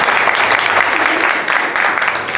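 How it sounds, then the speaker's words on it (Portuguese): A round of applause at a capoeira gathering honoring a master, dense steady clapping from a crowd filling the whole stretch, loud and close, with a faint voice briefly underneath. "Até a salva de palmas do mestre Danone"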